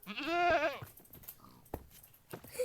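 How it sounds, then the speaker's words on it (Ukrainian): Goat bleating in the Minecraft survival game: a single wavering, nasal bleat up close, followed by quieter scattered game sounds and short clicks. "Коза."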